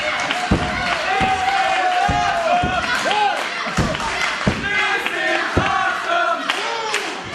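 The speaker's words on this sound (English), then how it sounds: "The crowd erupts." Wrestling crowd at a Twin City Wrestling show roars in a continuous loud wave of cheers and yelling, punctuated by heavy thuds from the ring and a commentator talking over it.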